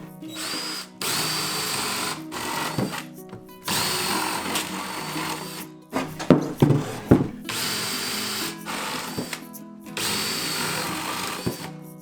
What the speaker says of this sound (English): Now that I've got my vent holes drilled, they're 1-inch holes.